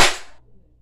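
A BB gun fires once up close: a single sharp crack that fades out within half a second.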